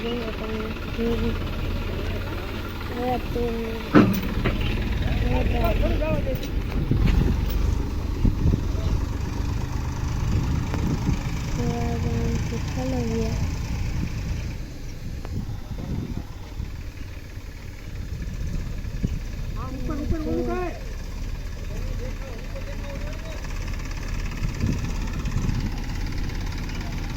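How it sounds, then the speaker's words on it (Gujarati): A tractor pulls up hauling a load of filling soil at a warehouse build site, its engine rumbling steadily close by and settling into an idle while people talk over it throughout. "ટ્રેક્ટર આવી ગયું"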